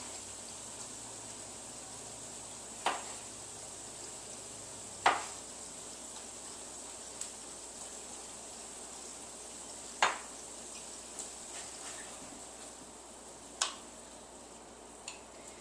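Two tomatoes cooking in a pan give a faint, steady sizzle, broken by a few sharp spoon-and-pan clicks spaced several seconds apart, quiet and close with no talk.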